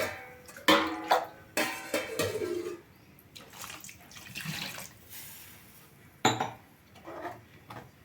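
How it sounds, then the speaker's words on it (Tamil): Water poured into a pot of beans kulambu in a kitchen, several short splashing bursts separated by pauses, close and moderately loud, with a faint clink of a pot or utensil. "கொஞ்சம் இன்னும் கூட தண்ணி ஊற்றணும்."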